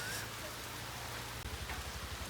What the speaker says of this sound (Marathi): असा पाऊस चालू